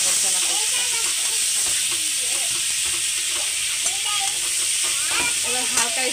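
Chana simmering and frying in a pan for masala chana bhaji makes a loud, steady close hiss of steam and sizzle throughout, with light scraping of stirring and a voice speaking over it.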